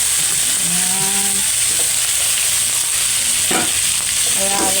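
Steady sizzling and a spoon scraping and stirring noodles with browned chicken in a pot for creamy noodle soup, loud and close, with a few brief clanks.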